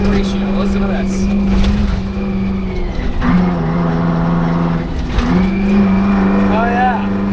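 A 1949 Ford F7 truck fitted with a swapped-in Detroit Diesel engine runs steadily in fourth gear, its loud droning exhaust note holding with small rises and dips while someone talks over it.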